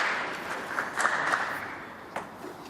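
Snooker crowd at the Northern Ireland Open applauding a century break, a steady patter of clapping from a fairly large audience, moderately loud and sustained throughout.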